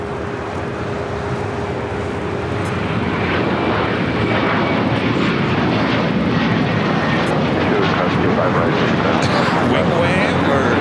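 Airliner taking off at LAX, an American Airlines A321 bound for Charlotte, its jet engines a broad steady roar that swells and holds loud, with faint radio-style talk in the background.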